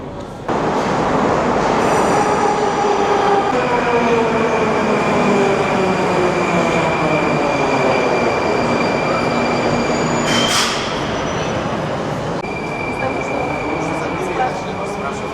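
A Moscow metro train runs through Arbatskaya station, its rumble loud and steady, with high wheel squeals and a rhythmic clatter of rails that rise and fade. Indistinct voices can be faintly heard under the noise.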